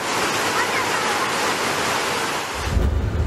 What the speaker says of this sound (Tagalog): kita ang agos ng tubig na may halong putik